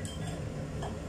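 A metal lid is set onto a cooking pot of jengkol simmering on the stove, giving a brief clink or two over a steady low kitchen hum.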